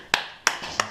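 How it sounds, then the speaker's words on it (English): Three sharp, separate hand claps ring out close by in a quiet workshop during a Gilera Cougar motorcycle rebuild, spaced unevenly with short decays. "That deserves a clap."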